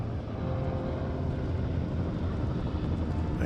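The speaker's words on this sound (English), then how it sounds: "There's the helicopter." A helicopter in the game Firewatch, a steady low rotor drone and engine rumble holding at a constant moderate level throughout, with no voices.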